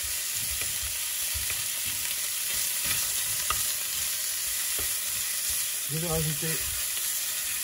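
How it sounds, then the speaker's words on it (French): Beef browns in a pan for a tajine, with a continuous close sizzle and occasional stirring scrapes, and a voice speaks briefly over the frying near the end. "quand je fais revenir ma viande comme ça, donc c'est à la faire dorer et à créer ce qu'on appelle des sucs"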